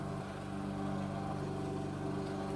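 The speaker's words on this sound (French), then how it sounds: "Il y a la mère qui passe à la tondeuse" A lawn mower runs outdoors as a steady, continuous engine drone with a low harmonic hum, moderately loud and unbroken throughout, with no talk over it.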